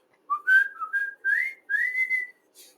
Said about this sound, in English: that whistle means that the students might have asked you to pause it